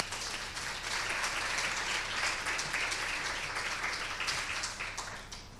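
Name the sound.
audience applause for the panel speakers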